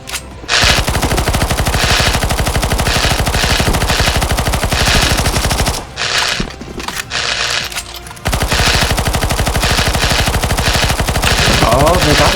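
Rapid automatic gunfire rattles almost continuously as players shoot the boss in a CS:GO zombie escape match, loud and close, breaking off briefly near the middle before resuming at full intensity.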